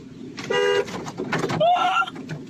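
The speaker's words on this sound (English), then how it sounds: "What happens if I honk?" A car horn honks in a Walmart parking lot in Texas, with two loud tonal blasts close by, each lasting under half a second, and a short gap of rumbling noise between them.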